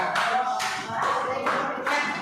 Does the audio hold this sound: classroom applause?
yes